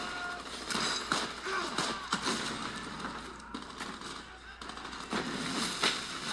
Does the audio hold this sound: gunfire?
yes